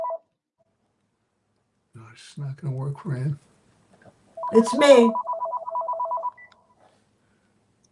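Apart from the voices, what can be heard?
landline telephone dialing and ringing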